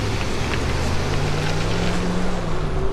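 A 3000W electric bike pulls away at full throttle on a trail, its motor whine rising steadily in pitch over a constant loud rush of wind and movement noise.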